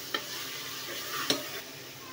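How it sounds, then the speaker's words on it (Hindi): Mutton and tomatoes fry in a pot for aloo gosht, a soft steady sizzle with two distinct spoon clinks as the mixture is stirred. "अब हम इसमें ऐड करेंगे टमाटर, और टमाटर को थोड़ा सा भूनेंगे"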